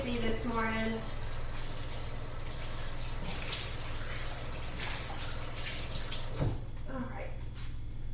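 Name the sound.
rinsing hands under running tap water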